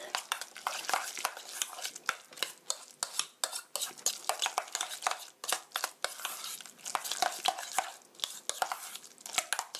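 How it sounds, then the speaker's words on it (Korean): Guacamole mixture being stirred after a sprinkle of ground black pepper, with a steady run of quick, close spoon scrapes and light clicks against the bowl. "고루 섞어주세요."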